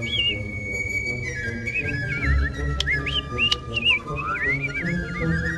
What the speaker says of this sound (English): we also learned at this point that their language is whistling